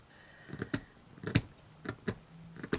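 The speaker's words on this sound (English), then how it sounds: "cut this one down. Just scrape it down a little bit." A knife scrapes down a skewer for miniature kitchen equipment in short, crisp strokes, about six close clicking scrapes spaced irregularly over quiet.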